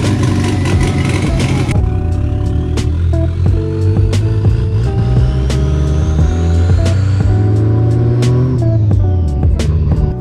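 Turbocharged Toyota Celica engine running on a first start after a build, a loud steady mechanical drone with a rising whine and sharp periodic clicks.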